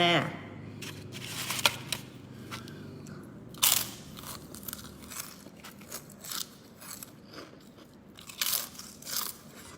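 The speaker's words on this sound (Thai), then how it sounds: "นี่เกี๊ยวกรอบ กินกันจ้า" Fried crispy wontons crunched up close, with sharp repeated crackling bites and chewing in irregular bursts, soft background sounds and some talk between them.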